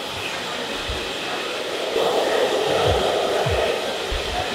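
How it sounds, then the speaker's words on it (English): A hair dryer blowing steadily as it rough dries a man's short fine hair, a constant close airy whoosh that grows slightly louder midway, with low bumps beneath. "going to finish off rough drying it with my fingers"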